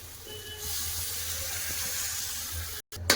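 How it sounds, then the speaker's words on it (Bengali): Water pours steadily into a pot of spiced potatoes browned with cumin powder, a close, continuous rushing hiss that ends with a brief clatter. "এবার দিয়ে দেবো জল"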